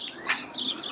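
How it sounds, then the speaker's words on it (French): Birds chirp and sing loudly in the countryside, bright overlapping calls close by, alone without talk. "On entend les oiseaux qui chantent très fort."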